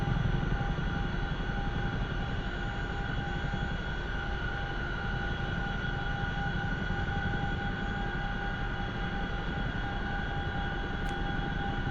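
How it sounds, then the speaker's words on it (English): A CH-47F Chinook tandem-rotor helicopter taking off in the DCS flight simulator game, a steady, loud engine and rotor drone with constant tonal whine holding evenly throughout, no voices. "Taking this bad boy off. Right here. Woo! Flying the Chinook, baby!"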